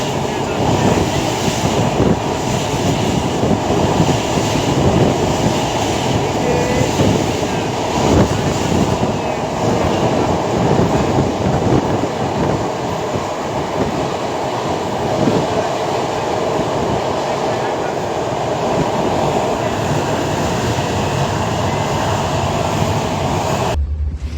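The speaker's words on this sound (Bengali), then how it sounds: "চিলাহাটি অভিমুখে আট শূন্য ছয় ডাউন চিলাহাটি এক্সপ্রেস ট্রেনটি পদ্মা সেতু অতিক্রম করে যাচ্ছে" The Chilahati Express, down train 806 bound for Chilahati, rumbles across the Padma Bridge in a loud, continuous roar of wheels and carriages that holds steady for the whole stretch and cuts off abruptly at the end.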